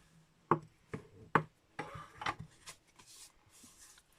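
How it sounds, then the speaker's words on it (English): Scored cardstock being folded and burnished for a handmade card, heard as a few sharp creasing snaps followed by soft rubbing strokes, close and fairly quiet with no talking. "I'm just going to fold that over and burnish it."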